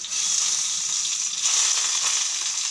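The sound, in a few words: chopped garlic sizzling as it is added to hot oil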